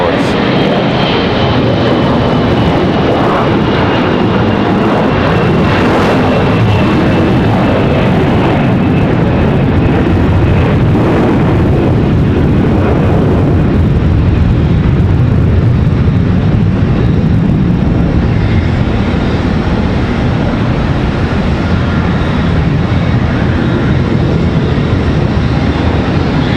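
Airplanes at Charlotte Douglas International Airport make a loud, continuous jet engine roar that builds and shifts as aircraft get ready for departure, with talk faintly underneath.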